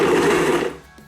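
Blender pulsing a cheesecake pancake batter with cream cheese and a cookie base, one short loud whirring burst that cuts off abruptly.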